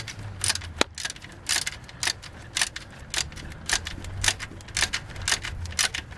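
A ratchet clicks in short bursts while tightening a bolt during radiator replacement on a 2001 Dodge Caravan 3.3L V6, giving close, repeated ratcheting strokes with brief pauses in a quiet garage.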